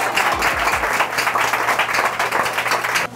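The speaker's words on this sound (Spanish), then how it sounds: "¿Cuánto le dan el aplauso al Rey?" Church congregation applauding at a Spanish-language service, a dense burst of clapping that fills the space and runs steadily until it cuts off abruptly near the end.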